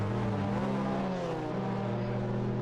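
A Mazda MX-5 Cup race car's engine drones loud and close in the Assetto Corsa racing game at Circuit Ricardo, revs rising and falling through gear changes without pause and with no talk.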